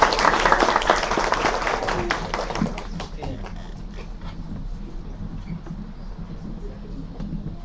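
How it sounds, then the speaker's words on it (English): Applause at a UCSB academic mini-conference session, loud and dense at first, then thinning and fading into scattered claps and room noise over several seconds. "Let's give a final round of applause."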